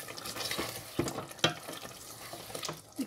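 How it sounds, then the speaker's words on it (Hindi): Goat meat frying in oil in a home kitchen pot, a soft steady sizzle with stirring scrapes and a few sharper clinks, close and moderately quiet. "इतना डालेंगे तो थोड़ा सा गोश्त अच्छी तरह भुन जाए"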